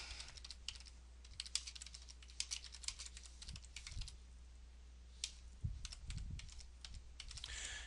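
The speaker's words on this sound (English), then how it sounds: "As you can see, I've just typed in Logan's room for testing equipment" Typing on a computer keyboard, with quick irregular bursts of clicking keys over a low background hum. Faint and close, with no talk.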